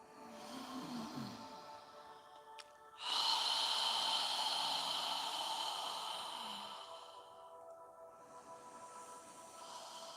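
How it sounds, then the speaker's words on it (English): A slow, drawn-out exhale during a guided yoga breathing exercise, pushed through an open mouth as if fogging a mirror, a soft airy hiss swelling then fading alone with no talk. "when you're exhaling, imagine that you're fogging a mirror with your breath"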